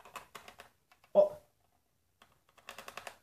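Broken computer keyboard key clicking in short, rapid bursts of close, crisp clicks, with a brief vocal sound in the middle and a quiet pause before a final flurry.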